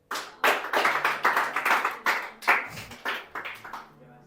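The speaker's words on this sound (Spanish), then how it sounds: "Denle un aplauso al Señor." A church congregation at a Sunday service claps in a quick, steady rhythm of about a dozen sharp beats, fairly close and moderately loud, then trails off.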